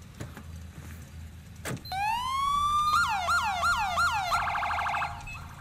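Police car siren from a modded video game, a city unit: after a brief click, a loud wail rises and holds, then switches to rapid yelp sweeps and a fast piercing phaser, with no talking.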